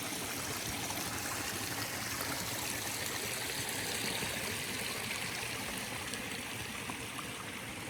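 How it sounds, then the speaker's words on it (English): A creek flowing at a trail crossing on the Timberline Trail loop in Oregon's Mount Hood Wilderness, a loud, close, continuous rush and babble of water that holds steady throughout with no talk. "Coming along another creek crossing."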